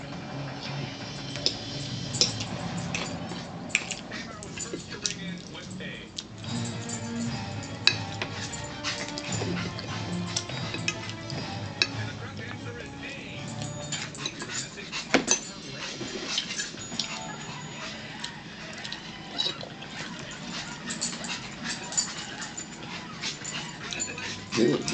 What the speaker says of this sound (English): Gigi, go eat your dog food